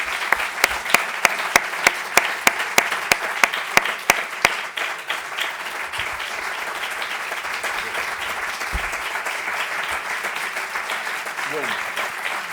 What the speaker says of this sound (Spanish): vamos a darle el aplauso que se merece a Fernando Sebastián.